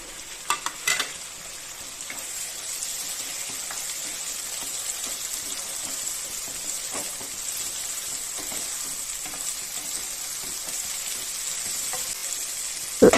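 Drumstick pieces frying and stirred in a pan, a steady close sizzle throughout with a few sharp scraping clanks near the start and a knock at the end, with no voices.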